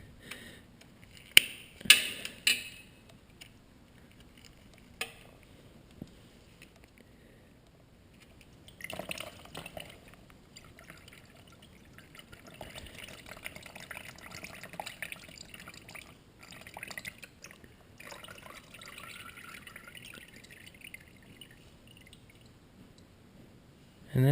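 Coolant drains from the bleed screw of a 2012 Triumph Street Triple R, making a faint, steady trickle and dribble across the second half, after a few sharp clinks of the screw being removed.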